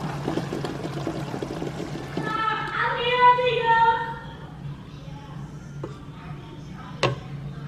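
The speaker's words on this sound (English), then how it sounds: "now I'm gonna run cool water over it just to stop the cooking" Cool tap water runs briefly over freshly cooked food in a kitchen, a short hissing pour under quiet voices, followed by a few light clinks and taps.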